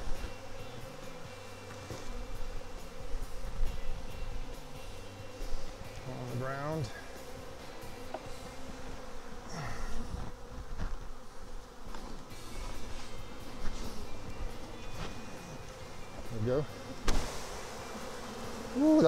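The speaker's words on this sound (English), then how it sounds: "There's a lot of bees right here, guys. Tons of bees." A swarm of honey bees from a defensive hive being split, a dense continuous buzzing drone throughout, with someone talking intermittently and occasional rustling and equipment sounds nearby.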